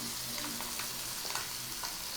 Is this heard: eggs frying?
yes